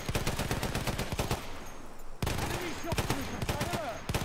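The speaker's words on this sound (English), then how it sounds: "you're gonna see I get shot behind this rock." Rapid gunfire in the video game Battlefield 1 as the player gets shot, dense loud bursts of shots with a short lull before the firing resumes.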